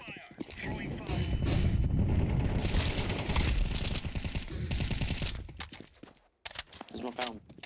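Rapid video game gunfire crackles in dense bursts through most of the stretch, loud and close, with shouted voices mixed in before a brief drop into near silence and a final scattering of shots.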